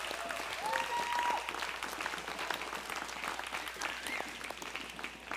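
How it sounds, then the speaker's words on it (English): Indoor audience at an evening event gives kitchen staff a round of applause, moderately loud and steady, with a few cheering voices mixed in. "I want to give the kitchen staff a round of applause tonight and thank them"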